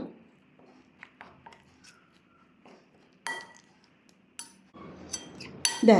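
A metal spoon clinks and scrapes against a bowl while paneer fry batter is mixed, sparse irregular taps in a quiet kitchen, with a louder clatter at the end.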